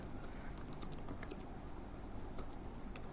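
Typing on a computer keyboard while working in Microsoft Excel 2016, a continuous patter of light, fast keystrokes, faint and close over a constant background hiss, no talking.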